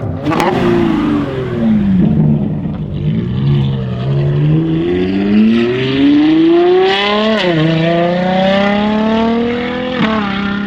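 A Novitec-tuned Ferrari Purosangue's V12 engine revs loudly and close, its pitch climbing steadily through long rising sweeps with a brief dip and surge midway, a continuous roaring exhaust note.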